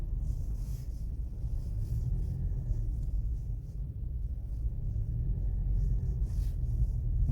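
Toyota Vitz petrol car cruising at about 1000 rpm, a low steady engine and road rumble from inside the cabin, continuous and even with no talk.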